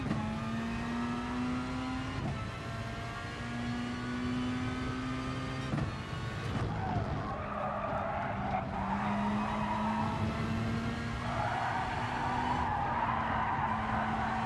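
Race car tyres skidding and squealing in Gran Turismo Sport, worn tyres pushed hard while trying to pass a Corvette; several long screeching squeals rise and fade over a constant engine drone.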